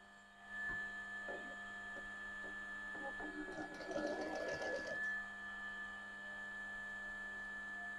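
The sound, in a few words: sewing machine stitching a zip onto a cushion cover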